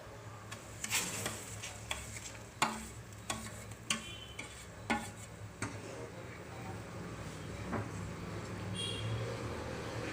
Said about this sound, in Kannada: ಹಾಲೆಲ್ಲ ಕುದೀತಾ ಇದೆ ನೋಡಿ, ರವೆ ಹಾಕ್ಕೊಂಬಿಡಿ